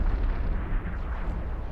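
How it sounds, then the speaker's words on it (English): A big explosion in the space game EVE Online, a dense rumbling boom with deep low-end roar sustained throughout, loud and close with no talking. "Lovely big explosion."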